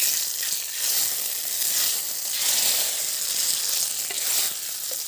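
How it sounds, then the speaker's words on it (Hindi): Steady, crackling sizzle of garlic and dried red chili tempering hitting hot oil for bathua greens, loud and close, with no talking. "अब इसमें हम तड़का लगाएंगे लहसुन का और लाल मिर्च का"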